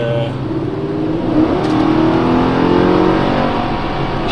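The engine of a 2005 Mercedes CLS55 AMG W219 roars close by as the throttle is blipped, pitch rising and falling in a loud, continuous growl.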